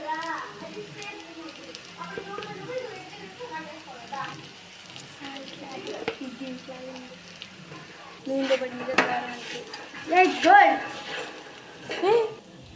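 Chicken fry sizzling in a pan on low flame as chili powder and salt are stirred through, a steady soft crackle with scraping stir strokes growing louder toward the end, while someone talks over it.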